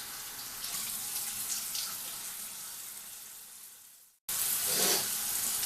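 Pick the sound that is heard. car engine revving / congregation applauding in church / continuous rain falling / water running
water running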